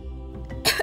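A single short cough, voiced as a cricket by a storyteller reading aloud, ending a brief breathy murmur; close and moderately loud, one quick burst.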